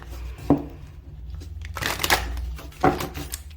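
A deck of cards being shuffled up close, three short papery bursts with the longest in the middle, alone without talk.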